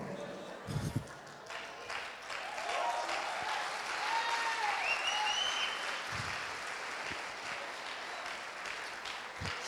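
Congregation clapping during a church sermon, a steady sustained wash of applause across the whole span with voices and some whistling-like calls mixed in, fairly distant and moderate in level.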